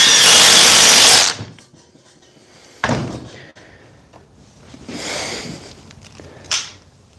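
A DeWalt cordless impact driver runs in a loud, dense burst for about a second during a battery battle test, followed by shorter, weaker bursts of driving and a few knocks.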